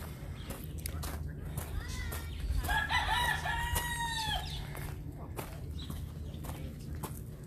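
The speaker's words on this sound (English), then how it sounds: "Morning, crazy rooster up there." A rooster on a farm crows a single long, wavering call in the middle, clear but somewhat distant, over constant outdoor background noise and scattered clucks and knocks.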